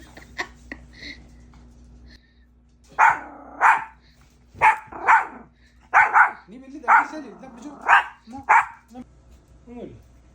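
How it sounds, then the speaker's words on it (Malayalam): A dog barks at a balloon again and again in short, sharp bursts, about nine barks spaced unevenly, close by against a quiet background. "ബലൂണെ നോക്കി കുരയ്ക്കുന്ന ടൈഗർ"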